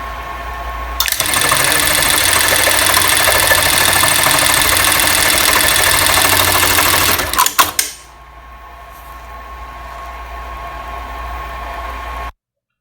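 A sewing machine stitches a bar tack in one loud, fast, continuous whir lasting several seconds, then stops abruptly with a few clicks, leaving a faint motor hum.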